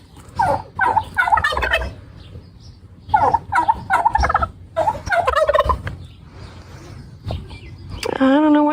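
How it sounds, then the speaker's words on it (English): At least three turkeys kept in their own enclosure gobble close by in repeated rapid, warbling bursts, several calls overlapping, with a brief higher call near the end. "I found the source of that gobbling noise that I heard a while ago. There was a turkey."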